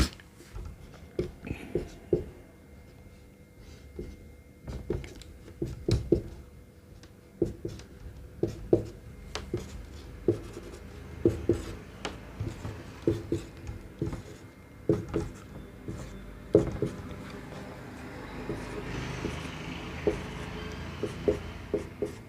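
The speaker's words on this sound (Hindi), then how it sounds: "जैसे पहले पूरी एबीसीडी लिखते हैं।" Chalk or marker writes out the alphabet on a board in a steady series of short tapping and scratching strokes, close and fairly quiet, with no talking.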